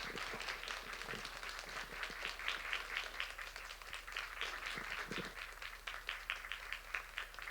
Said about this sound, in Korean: 우리 큰 박수로 환영해 주시면 감사하겠습니다